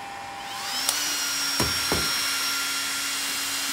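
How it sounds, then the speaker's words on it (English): A heat gun blowing hot air onto the sensor of an HP DPS-1200SB server power supply, a steady close whooshing roar with a faint whine, broken by a few light knocks and clicks. "I got a heat gun."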